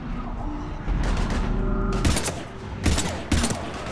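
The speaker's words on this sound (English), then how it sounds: "We're taking heavy fire." Heavy gunfire and booming impacts in a Mass Effect 3 combat scene form a continuous loud barrage, with several sharper blasts standing out near the end.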